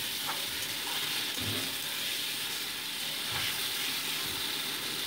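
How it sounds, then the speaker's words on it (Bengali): Tomato pieces fry in hot oil with nigella seeds, making a steady, soft sizzle and hiss with faint crackles throughout and no voices. "দিয়ে মোটামুটি 2 মিনিট টমেটোটাকে আমি তেলের উপর দিয়ে ভেজে নিচ্ছি।"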